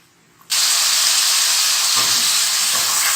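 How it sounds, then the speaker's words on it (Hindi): Chicken suddenly starts sizzling loudly in hot butter and oil over a high flame, then keeps up a steady, close hiss. "देखिए बटर के साथ और थोड़े ऑयल के साथ मैंने चिकन को बहुत अच्छा सा फ्राई कर लिया है।"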